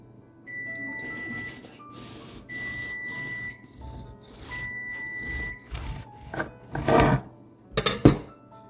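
Freshly baked wheat bran sourdough loaves come out of their metal pans onto a cooling rack: a run of close metallic scrapes and knocks, ending in a few sharp clanks of pan against rack.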